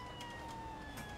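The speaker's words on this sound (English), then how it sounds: "Siren, I love it." An electronic vehicle siren in the game BeamNG.drive wails steadily at moderate volume, a continuous tone with faint rhythmic pulses and a low rumble underneath.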